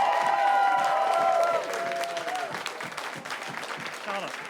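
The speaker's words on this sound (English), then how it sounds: "will you please give a big round of applause for the new Labour leader?" Pub audience applauding and cheering for a new Labour leader, a loud sustained burst of clapping with whoops and voices that eases slightly after the first moments.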